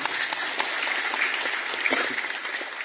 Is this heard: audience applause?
yes